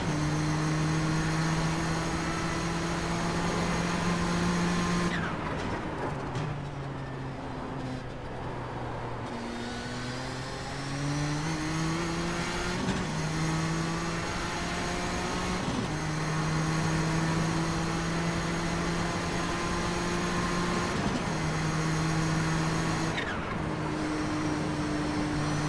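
An Audi race car's engine in iRacing on the Nordschleife, a steady loud droning whine that holds, then dips and rises again through gear shifts and braking over about twenty-five seconds.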